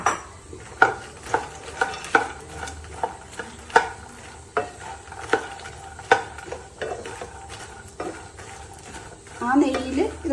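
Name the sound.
makhana roasting in a pan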